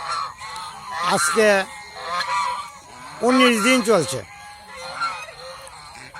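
Domestic geese honk loudly in a farmyard where a flock of brooding geese sits on eggs, two bursts of harsh, nasal calls rising around someone speaking nearby.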